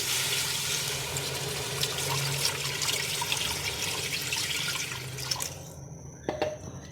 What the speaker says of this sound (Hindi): इसमें मैं यखनी डालूंगी।